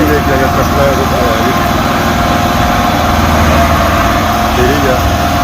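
A tractor engine running on muddy ground at a tractor fair in Dadyal, Azad Kashmir, a loud, steady, buzzing drone that continues throughout while people talk over it.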